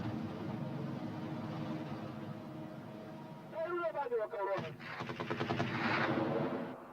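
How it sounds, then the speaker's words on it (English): Machine gun fire in the Afghan countryside in 1982, mujahideen guns firing at Soviet MiGs: a rapid rattling burst erupts midway and grows into sustained fire, heard over a rumbling background and someone talking. "These are the machine guns of Ismatullah Khan, keeping the MiGs at bay"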